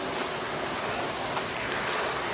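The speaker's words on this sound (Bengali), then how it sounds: "আর একটা ঝর্ণায় চলে এসেছি।" A waterfall in Bandarban, Bangladesh, roars as a dense, steady rush of falling water, loud and close with no pauses or voices.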